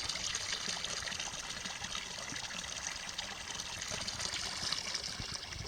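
Spring water from Vitosha mountain trickling and splashing steadily outdoors, a continuous close, fairly loud watery hiss without pause.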